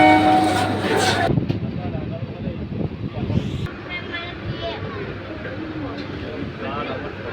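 A Bandel local train pulls into a crowded station during Durga Puja, its rumbling wheels and a horn blast loud nearby while people talk over the noise.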